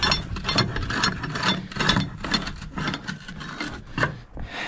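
Ratchet strap cranked tight on a truck's load in the snow, a steady run of rapid clicking ratchet strokes close by, with rubbing and creaking under the clicks and no talking.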